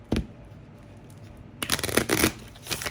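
Playing cards are shuffled close by: a quick snap, a pause, then a rapid fluttering riffle of cards.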